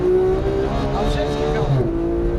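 A Porsche 991 GT3 on the Auto Club race track roars loudly as it accelerates, engine note climbing steadily with a brief dip at a gear change, while a voice talks over it.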